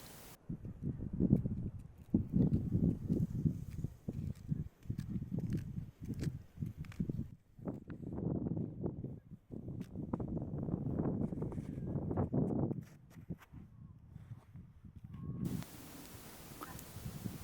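Goats walking nearby through snow on a winter walk in Denmark, an irregular series of soft crunching and shuffling steps close to the microphone, with light wind noise and brief pauses between bursts of movement.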